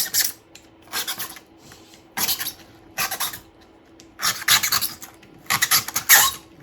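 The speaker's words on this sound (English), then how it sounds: "We'll just trim her up a bit." Rough rasping and scraping of foam being trimmed to shape a model mountain, coming in repeated close bursts of about a second each with short pauses between.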